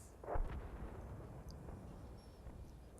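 A tank's main gun firing in a tier 6 armored combat video game skirmish, a single deep boom early on fading into a low rumble, with faint clatter afterward.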